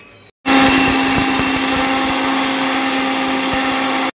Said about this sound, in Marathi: आता हे आपण मिक्सरच्या भांड्यामध्ये टाकून एकदम बारीक वाटून घेणार आहोत।